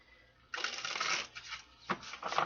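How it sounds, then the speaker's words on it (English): Tarot cards being shuffled up close, a dense riffling flutter that starts abruptly, runs about a second, eases off, then returns in a sharper burst with lighter rustling after. "One more shuffle here, and let's get some answers."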